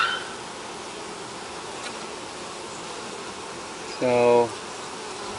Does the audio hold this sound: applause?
no